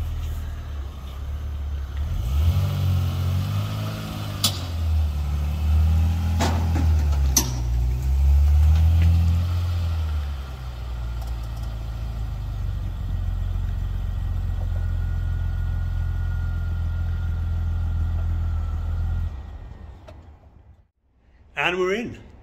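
Car making a very short drive from storage to a new unit on an icy day, a steady close engine drone with shifting tone, ending in a brief pause and a final thump.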